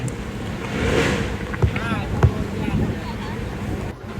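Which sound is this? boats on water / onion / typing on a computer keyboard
boats on water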